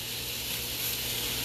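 A rack of lamb coated in a rub sears bones-up in oil in a hot skillet, giving off a steady, even sizzle and hiss that holds throughout with no one talking.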